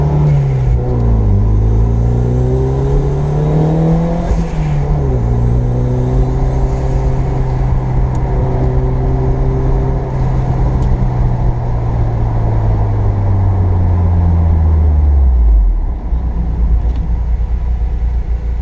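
Toyota MR2 Turbo engine droning steadily from inside the car while driving, loud and continuous, with pitch rising through gears and falling on shifts before settling low near the end.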